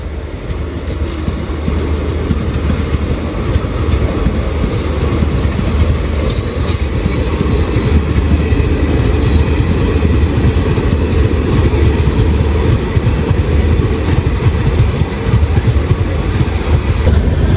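Rocket Express pulling out of Mangaluru Junction toward Mumbai CSMT on the Konkan Railway, a loud, unbroken rolling roar of wheels and carriages with a brief metallic squeal partway through.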